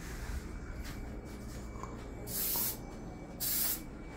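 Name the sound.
non-stick cooking spray sprayed onto griddle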